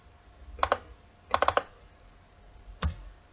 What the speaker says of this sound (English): let me just type it like this